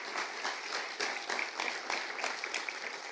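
A church congregation applauds during a Spanish-language sermon, a dense, steady patter of many hands clapping together, moderately distant and continuous for the whole stretch.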